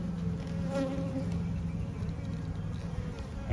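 Dense, steady buzzing of honeybees at an open beehive during a hive inspection, a continuous close drone filling the whole stretch with no break.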